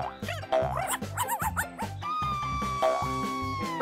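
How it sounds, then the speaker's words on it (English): A dog yips and whimpers in a park scene of a cartoon, several short excited high-pitched sounds over a rhythmic music bed, then a sustained tone, with no talking. "Great weather for a walk with the dog."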